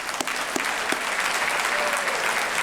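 Crowd at a mayor's men's breakfast meeting claps steadily, a close, even burst of applause with a few sharp individual claps standing out.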